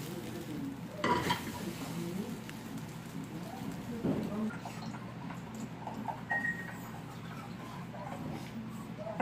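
Fried rice with egg stir-fried in a Neoflam pan, steady sizzling with clattering spatula scrapes and knocks, someone talking over it.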